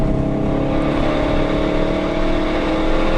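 A car accelerates hard during a track ride-along at a car festival, its engine a loud, steady close-up roar filling the cabin throughout, with no talking.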